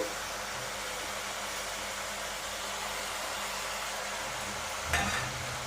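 Tomatoes, vegetables and spices frying in a pan for a mixed prawn and jackfruit curry, giving a steady soft hiss throughout with a brief louder stir or clatter near the end.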